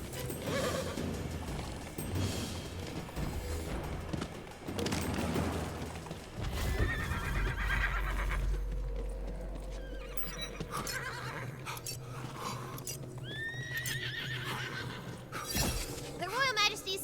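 In the video game Tiny Tina's Wonderlands, the unicorn horse Butt Stallion lets out clear whinnies among clip-clopping hooves, shattering crashes and clanking mechanisms, with a voice talking over much of the game audio.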